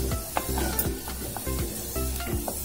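Paste for karavadu (dried fish) kuzhambu sizzles in hot oil while a utensil stirs it in a regular rhythm of scraping strokes, close up.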